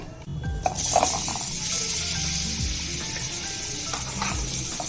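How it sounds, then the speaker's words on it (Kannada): Boiled eggs frying in spices and cumin powder in a pan over a medium flame for an egg curry, giving a steady close sizzle with occasional stirring scrapes. "ಇದು 1 ನಿಮಿಷ ಹಿಂಗೆ ಫ್ರೈ ಮಾಡ್ಕೋಬೇಕು."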